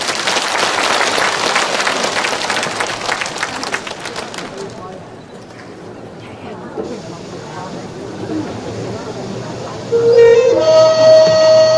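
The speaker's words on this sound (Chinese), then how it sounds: "反正是让你们给刚才那些演员鼓鼓掌" An audience in a university concert hall in Chuncheon claps for performers of Korean traditional dance, a dense burst of applause for about four seconds that fades into a voice speaking, then music begins.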